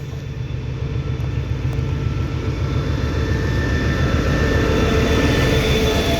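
A QSY diesel locomotive sits at Ban Pong station in Thailand, its engine giving off a steady, continuous low rumble with a faint hum, unbroken and fairly close for the whole stretch.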